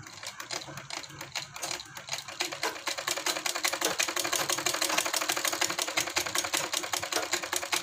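A sewing machine stitching a line over fabric for a garment neckline, a fast, even mechanical clatter that starts unevenly and settles into a steady rapid rhythm, close and alone.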